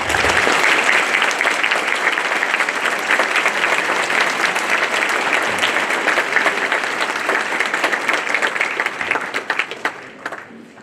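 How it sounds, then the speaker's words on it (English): Sustained applause from an audience honoring standing veterans at a Veterans Day program, steady and full for about ten seconds before tapering off at the end. "Let's give them a round of applause."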